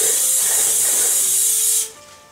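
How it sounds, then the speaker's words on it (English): Cooking spray oil hisses in one loud, steady burst lasting under two seconds as the inside of a springform cake pan is greased, then stops abruptly, leaving quiet room tone. "just grab some cooking spray oil and we're just going to grease the inside"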